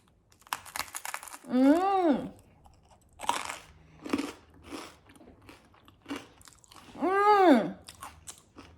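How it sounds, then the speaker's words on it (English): Crunchy toasted bread topped with umeboshi and smashed avocado being bitten and chewed, close crisp crunches in irregular bursts, interspersed with two drawn-out vocal sounds of delight. "And the bread is toasted so it's crunchy"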